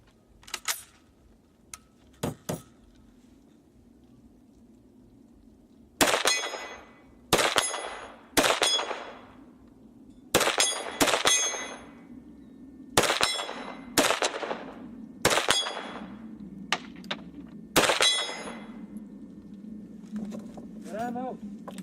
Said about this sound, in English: just going to put a couple more rounds down range